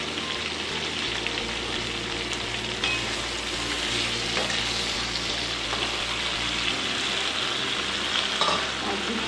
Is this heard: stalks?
yes